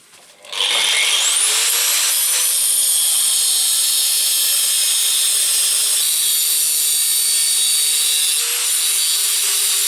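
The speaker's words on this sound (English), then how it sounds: "I'll just get out the angle grinder and just start making bits that shall fit" An angle grinder cuts metal pieces for a 110cc go-kart rear axle sprocket adapter, spinning up quickly into a loud, steady high-pitched screech that holds close and unbroken to the end.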